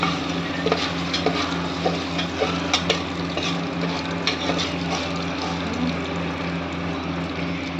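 Continuous crackly sizzling of food in a pan, with scattered sharp pops and spatters over a steady low hum.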